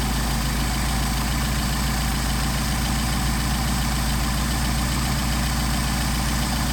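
A Mercedes 190SL engine with Solex carburetors running during an RPM adjustment, a loud, steady idle with an even low rumble and pulsing throughout.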